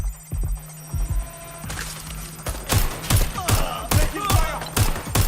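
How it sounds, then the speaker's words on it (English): Gunfire in the video game Watch Dogs Legion cracks out in sharp, spaced bursts that grow denser and louder toward the end, with a low background hum beneath the shots. "Taking fire."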